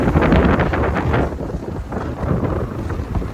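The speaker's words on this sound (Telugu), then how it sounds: "భయంకరమైన గాలి వాన అయితే వస్తుంది." Strong wind and rain in a storm with thunder around, a loud continuous roar buffeting the microphone, steady throughout.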